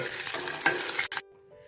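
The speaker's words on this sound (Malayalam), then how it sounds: "ഞാനിപ്പോൾ കാഷ്യൂ നട്ടാണ് ഇടുന്നത് ഇത് വറുത്ത് കോരട്ടെ" Cashew nuts frying in ghee for carrot halva, a close, crackling sizzle with stirring scrapes that stops abruptly after about a second, leaving near silence.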